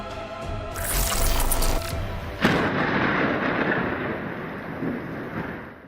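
A sharp crack of nearby thunder erupts as lightning strikes a truck during showers in Mooresville, North Carolina, followed by a long rolling rumble that slowly fades away.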